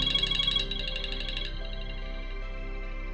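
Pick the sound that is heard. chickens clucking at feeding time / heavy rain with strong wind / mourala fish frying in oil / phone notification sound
phone notification sound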